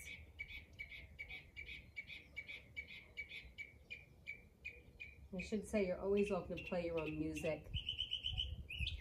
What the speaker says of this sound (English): Notice the birds.